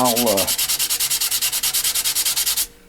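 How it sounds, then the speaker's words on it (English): Steady rhythmic sanding strokes on a wooden handle, about twenty quick back-and-forth rubs, loud and close, briefly joined at the start by a whining tool tone before running alone until a sudden stop. "I'll sand it and get it close"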